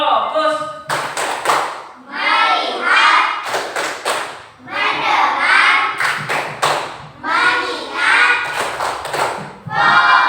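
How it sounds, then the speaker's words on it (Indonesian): A classroom of children performs a rhythmic focus clap, chanting together between sharp, loud bursts of clapping in a repeated pattern of quick claps, close and lively. "Tepuk fokus dulu. Tepuk fokus."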